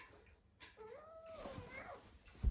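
A single drawn-out cat meow, rising then bending downward, fairly close but quiet, with faint background noise and a soft bump at the end.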